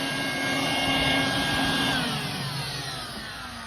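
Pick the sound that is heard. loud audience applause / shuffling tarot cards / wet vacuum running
wet vacuum running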